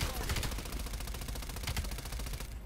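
Rapid automatic gunfire from the video game Black Ops Cold War, dense and continuous bursts of shots rattling throughout at steady loudness, with a voice speaking over them.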